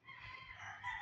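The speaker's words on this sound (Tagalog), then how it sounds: "Sorry guys kung maingay kasi yung mga manok" Chickens cluck and crow nearby in a brief, continuous burst with no talk over it.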